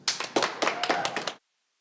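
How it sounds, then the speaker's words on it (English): Panelists at a Vermont Law School event on race and the law receive a brief round of applause, a few close, uneven claps that sound like only a handful of people, lasting just over a second before stopping. "So I would love you guys to give a round of applause,"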